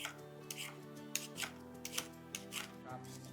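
A knife rough-chopping a carrot on a board in a home kitchen, with a steady series of crisp, close chops about twice a second over soft background music.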